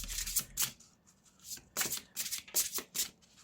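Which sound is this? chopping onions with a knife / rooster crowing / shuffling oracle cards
shuffling oracle cards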